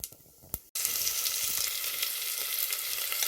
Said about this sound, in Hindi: जैसे ही ऑयल हीट अप होए तो जीरा एज नॉर्मल, तो लेट इट क्रैकल।